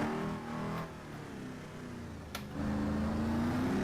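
Hennessey Venom GT engine in Assetto Corsa revving under full throttle, a moderately loud rising engine note that dips briefly as it shifts and then climbs again, with no voices.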